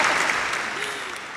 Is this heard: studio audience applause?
yes